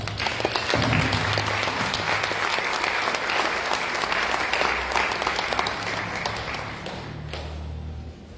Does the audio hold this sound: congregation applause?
yes